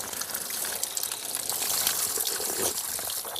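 Mineral spring water gushing steadily at the village of Mihove, Ukraine, a close, continuous broadband splashing and pouring with no break and no voices.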